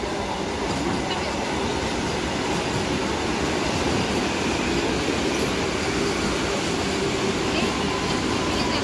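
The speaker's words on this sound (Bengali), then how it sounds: "এই ঢুকছে বন্দে ভারত" A Vande Bharat express bound for Guwahati rolls steadily into a station platform, a continuous loud rumble of wheels and carriages filling the whole stretch without a break.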